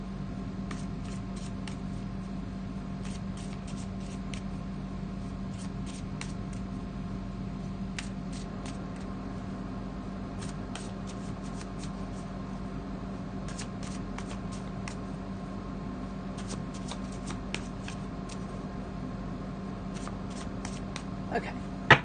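Tarot cards from a Black and White Tarot deck being shuffled in quick, papery bursts that repeat across the span, close and fairly quiet over a steady low hum.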